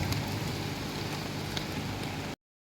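Rain pours steadily at an outdoor work site, a dense, even hiss of drops hitting surfaces that continues unbroken, then cuts off abruptly near the end.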